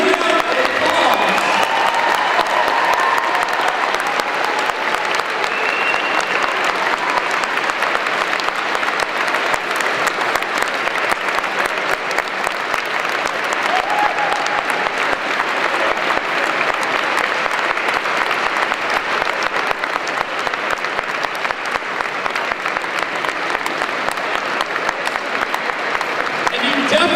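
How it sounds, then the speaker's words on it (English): A large audience at the Youth Unchained 2012 keynote gives a long, loud, sustained round of applause, with dense clapping and faint crowd cheering lasting nearly half a minute. "Would you please recognize them with a huge round of applause?"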